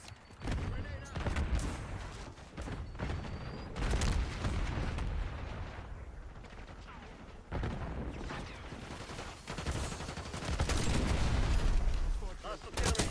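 Gunfire in a Call of Duty Black Ops 6 match, dense bursts of shots and booms running almost without a break, with a voice talking over the fighting.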